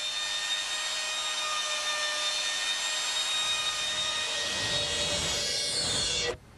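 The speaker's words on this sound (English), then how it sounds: "uses a router to clean up the joint" A router cleans up a cross halving joint in wood with a loud, high, steady whine that holds for about six seconds, then stops abruptly.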